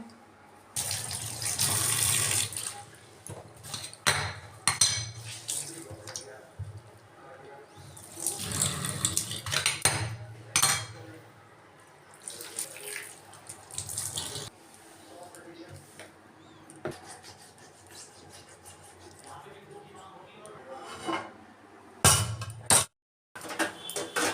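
A griddle pan being rinsed under a running kitchen tap, with water splashing in bursts that come and go along with scraping and clattering, close by, and a voice talking over it.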